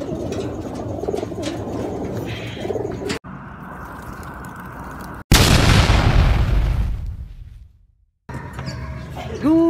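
Racing pigeons coo in short bursts, broken by abrupt cuts and a loud, rushing blast of noise before the cooing returns near the end.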